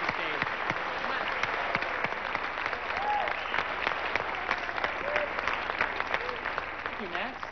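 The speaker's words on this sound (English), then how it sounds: "give Max a big round of applause as he makes his way to the stage" Steady applause from a theater audience at a 1988 Magic Castle magic show as a volunteer walks up to the stage, dense clapping continuing without a break for several seconds.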